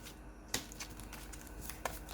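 Yu-Gi-Oh! trading cards are shuffled by hand in short riffling bursts over a soft, steady background hiss, close and fairly quiet.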